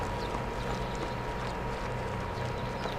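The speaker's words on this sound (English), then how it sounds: "I'll get my horse" Steady horse hoofbeats from the video game King's Bounty 2 run without pause over a dense wash of game ambience, at a constant moderate level with no voices.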